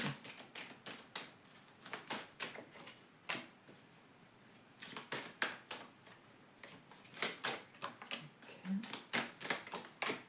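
Tarot cards being reshuffled by hand, a run of quick crisp papery riffles and taps in irregular bursts, close and moderately loud, with brief pauses between flurries.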